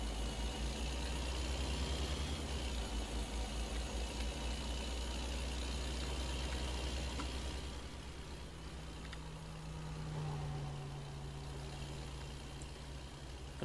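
Truck engine idling with a malfunction in a driving simulator game, a steady low rumble that eases slightly partway through, with no talking.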